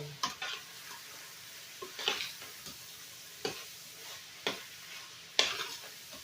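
Bacon and hamburger meat sizzle in a pan with a steady low crackle, broken by several sharp scraping stirs that come at irregular intervals.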